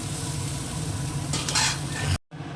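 Green peas and vegetables fry in hot oil in a pan, giving a steady close sizzle with stirring scrapes, a brighter burst of crackle midway, then a sudden cut to near silence before the sizzle resumes.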